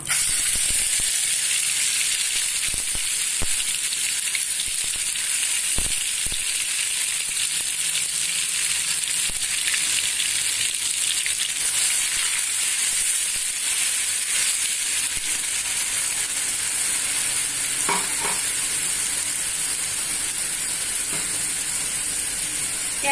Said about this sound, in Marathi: एक तेजपान छोटा चमचा जिरं हे वाटण केलेले आपण ते टाकतोय आता